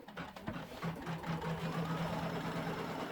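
An embroidery machine stitching the first colour run of an in-the-hoop zipper bag, a steady rapid hum with an even mechanical pulse running close and continuous.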